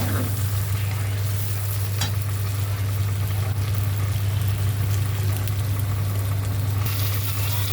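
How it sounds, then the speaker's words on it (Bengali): Eggs frying in a pan, a loud, continuous close sizzle with a steady low hum underneath and an occasional faint click. "ডিমটা দিয়ে একটু লাল লাল হওয়া পর্যন্ত এখানটাতে একটু ভেজে নিতে হবে।"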